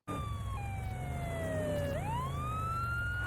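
A police siren wails steadily, its pitch sliding down and then sweeping back up, loud and continuous with no voices.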